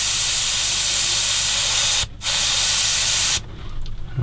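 A spray can with its nozzle taken off, used on a 1/8 scale Dalek model, gives a loud continuous hiss, then a short break, another burst, and a final stop with faint room noise after.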